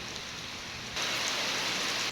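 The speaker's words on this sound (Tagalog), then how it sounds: "Umuulan." Rain falling outside a small neighborhood store, a steady hiss of drops on surfaces that grows noticeably heavier and louder partway through, with no voices.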